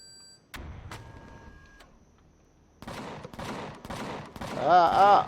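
Turret gunfire in the sci-fi survival game Empyrion Galactic Survival, with a single early shot followed by repeated rapid bursts of shots that grow louder toward the end.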